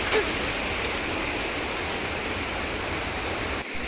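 Steady rain falls outdoors where people have taken shelter, a dense, even broadband hiss holding at the same level for the whole stretch with no talk over it.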